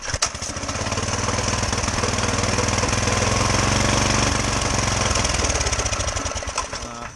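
A small go-kart engine with the choke fully on fires up and runs at a loud, steady, chugging idle close by, with rapid pulsing that swells and holds for several seconds.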